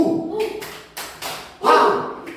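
A teacher demonstrates the Tepuk huha clapping routine in an elementary school class, with a few sharp claps and slaps spaced between spoken chant syllables.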